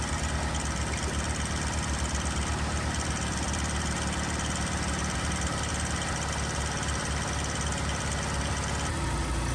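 A car engine idles steadily at a low, even rumble throughout, with a constant vibrating drone and no speech over it, just after a premix was added during repairs.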